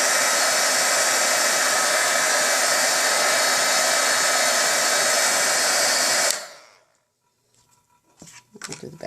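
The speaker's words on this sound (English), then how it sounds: "just bring your heat gun in and for a few seconds and you'll flatten it out" A heat gun blows steadily and loudly for about six seconds while flattening and drying a card craft piece, then cuts off abruptly, leaving faint handling noises.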